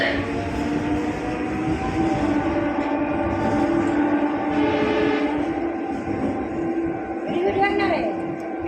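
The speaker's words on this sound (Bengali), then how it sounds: "ছেড়ে দিয়েছে আমাদের ট্রেন" A train departs Ramtala station at night, rumbling steadily with a continuous low roar and rhythmic rattling of the cars, close and loud, with a brief rising squeal near the end.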